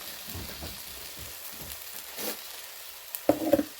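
An omelette of arugula, broccoli and tomato cooks in a pan turned down to lower heat. A faint, steady sizzle runs throughout, and a short, louder clatter of utensil on pan comes near the end.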